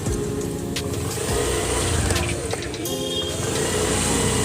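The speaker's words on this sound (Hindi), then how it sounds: "अभी मैं यहाँ से रेस दूंगा ना, ये शुरू हो गई" A Honda Activa 125 scooter engine runs and is revved in a service workshop, a steady mid-pitched drone with mild swells, close by, while someone talks over it.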